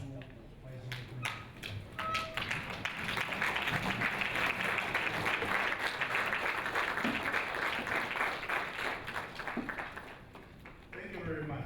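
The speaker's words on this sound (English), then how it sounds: "Please join me by standing up and applauding these two wise men" Steady applause from a standing academic audience at a PhD seminar, clapping swelling after a few scattered opening claps and holding dense for several seconds before tapering off.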